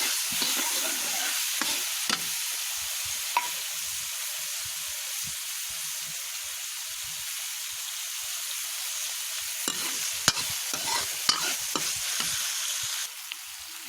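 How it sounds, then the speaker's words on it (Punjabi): Green chillies fry in a pan alongside tomatoes for a Punjabi potato and chilli dish, giving a long steady hiss and sizzle with intermittent clicks and scrapes of stirring, close and without voices. "ਹੁਣ ਆਪਾਂ ਇਹ ਹਰੀ ਮਿਰਚ ਪਾਉਣੇ ਆ ਥੋੜੀ ਆਪਾਂ ਹਰੀ ਮਿਰਚ ਫਰਾਈ ਕਰ ਲਾਂਗੇ"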